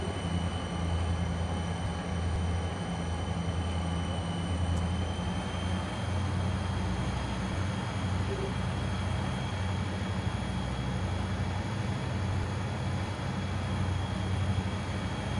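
An SP SD45 locomotive runs the Donner Pass line in Train Simulator 2015, giving a steady, continuous low diesel rumble with a faint high whine held throughout, with no voices heard.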